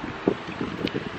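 Strong coastal wind at Cape Coast, Ghana buffets the microphone in uneven rumbling gusts, with a couple of sharper thumps standing out from the blustery rush.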